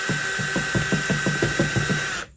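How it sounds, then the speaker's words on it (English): A power drill bores a pilot hole through a wood floor panel in a Chevy Express camper van, giving a steady whining buzz with rapid rhythmic ratcheting pulses, close and loud, then stopping abruptly. "what you want to do is you want to drill a pilot hole through the wood"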